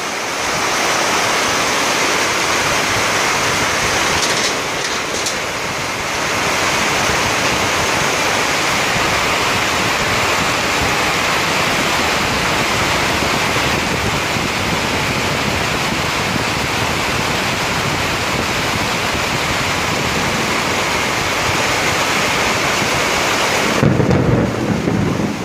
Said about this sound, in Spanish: Fuerte lluvia en la ciudad de Cali, fuerte lluvia en Siloé